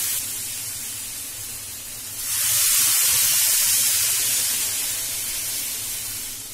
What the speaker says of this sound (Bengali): এক মগ জল এতে দিয়ে দিলাম